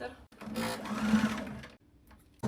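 A home sewing machine stitches a dart in fabric, running in a steady whirring burst of about a second and a half that stops and then briefly starts again. The machine is close and clear.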